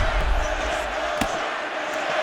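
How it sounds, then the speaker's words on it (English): Steady crowd roar fills the arena in the UFC 6 video game, a continuous cheering and applause bed with a brief sharp impact partway through, heard without talk. "they can take in the applause because they deserve it after that grappling exchange"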